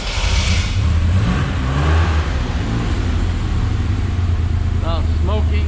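A 1980 Maserati Merak SS engine starts from cold with a loud cranking and catch, then a steady close-up idle rumble with a couple of sharp squeaks near the end.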